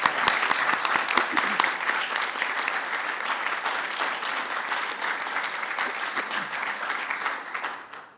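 An audience gives sustained, even applause for young national student poets at a formal honoring event, dense clapping that begins with a few sharp claps and fades out at the end.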